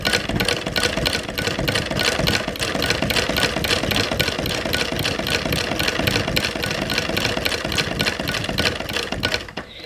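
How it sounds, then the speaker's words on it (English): A sewing machine stitching through the heavy fabric of a dog training dummy, a fast, even mechanical chatter, loud and close, running nonstop and stopping abruptly at the end. "this machine sews through that like it's butter"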